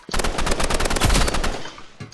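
Rapid automatic gunfire in a shooting video game rattles out in a loud, dense burst of closely spaced shots, briefly easing and then resuming with a few final rounds.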